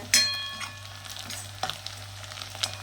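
Small onions sautéing in oil in a pan, a faint, steady sizzle under a low hum, with a sharp metallic knock at the start and a few light scrapes and taps of stirring.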